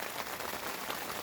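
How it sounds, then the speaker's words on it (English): Rain falling steadily outside a tent during a camping trip in Alaska's Talkeetna Mountains, a soft continuous patter heard from inside, even and unbroken, with no voices. "as you can hear, the rain is coming down outside"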